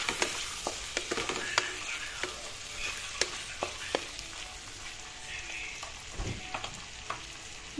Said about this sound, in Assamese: মাছখিনি মই এই তেলতে ভাজি ভালকৈ ভাজি ল'ম মাছখিনি